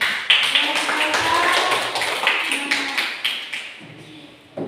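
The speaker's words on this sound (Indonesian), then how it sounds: "Ya, kita kasih tepuk tangan dulu." A class group claps together in a steady burst of applause, many hands close by, tapering off toward the end.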